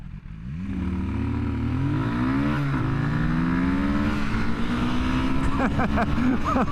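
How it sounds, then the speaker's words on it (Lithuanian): A small, light CFMOTO 250 Dual motorcycle filters through traffic, its engine droning close and loud with rising and falling pitch as the rider shifts and revs, and other vehicle noise around it. "Pirmas įspūdis, kad motociklas labai gerai važiuoja tarp mašinų."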